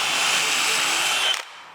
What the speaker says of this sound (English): There's a ton of dust because you're doing a ton of drilling.